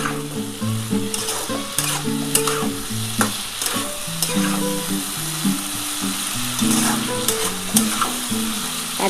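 Tomato sizzles in hot oil in a pan for a Bengali vegetarian curry of flat beans, potato and lentil dumplings, with steady frying hiss and scraping stirs under a soft tonal background melody.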